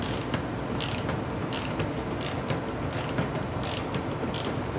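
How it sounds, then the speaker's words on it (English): A hand-turned ratchet clicks in quick irregular bursts of pawl ticks, faint and close, over a low steady background hum with no speech. "it functions as a regular ratchet if you just turn it with your hand"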